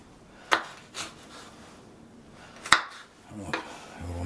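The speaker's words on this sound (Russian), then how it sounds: "Нарезаем болгарский перец" A knife chops bell pepper on a cutting board, producing a few separate sharp knocks spaced irregularly against quiet kitchen background.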